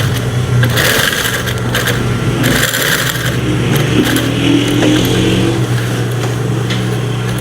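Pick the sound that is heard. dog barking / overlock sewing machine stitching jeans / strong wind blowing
overlock sewing machine stitching jeans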